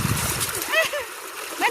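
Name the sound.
water being splashed in an irrigation channel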